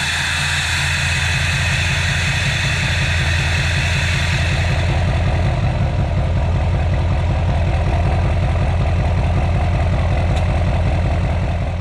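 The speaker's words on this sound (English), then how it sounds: "Okay, we got a 4-inch exhaust." An LML Duramax diesel pickup with a 4-inch exhaust idles loud and close, a steady deep rumble that holds throughout with no talk over it.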